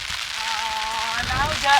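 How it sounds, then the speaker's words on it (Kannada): Heavy rain and wind near Ghataprabha dam make a steady, close rushing wash of rain that swells toward the end, with some voice in the background. "ಈಗ ತುಂಬ ಮಳೆ ಇದೆ"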